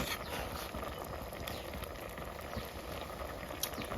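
Bamboo shoots simmering in water in a pot with meat and ginger, heard as a dense, continuous bubbling and popping patter that stays close and steady throughout, with no talking.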